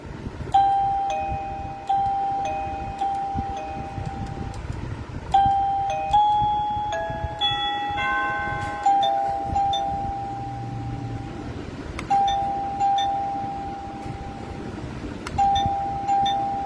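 Doorbell units under test play electronic ding-dong chime melodies over and over, each tune ringing out clearly and fairly loudly against a low background hum, with no talking.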